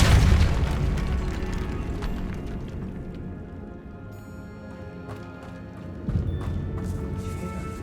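A Depulso spell blasts in Hogwarts Legacy: a heavy booming burst opens, decays into a rumbling tail, then a second thump hits near the end amid soft game ambience.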